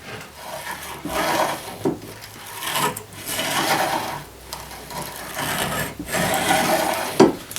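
A rough, grinding rotation of a vehicle driveshaft, with a rhythmic scraping pulse that repeats about once a second, steady and close, with no talking.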